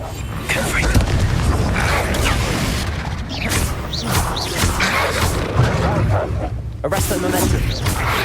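A Confringo fire-blast spell goes off with a heavy boom and crash amid dense clashing combat effects in Hogwarts Legacy, loud and continuous with sweeping whooshes throughout.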